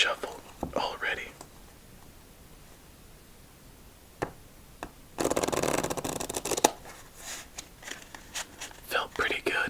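Playing cards being shuffled close up during a solitaire game, a short dense riffle burst with a few crisp card snaps around it, amid soft whispering.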